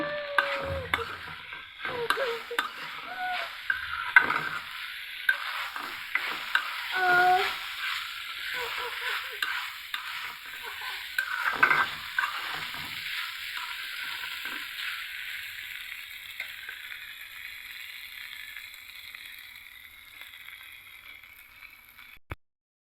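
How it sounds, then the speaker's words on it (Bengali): Spice paste of chili and cumin powder sizzles in a hot pan for beef curry with mung dal while a spoon stirs and scrapes repeatedly, the frying hiss close up and slowly fading toward the end. "ভালো মতো মশলাটা কষে নিচ্ছি"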